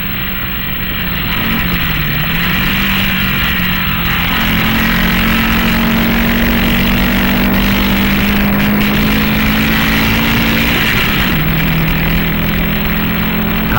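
A race car engine at Road America in 1958 drones loud and steady at about 115 mph, its pitch dipping and shifting as the car approaches a corner and brakes.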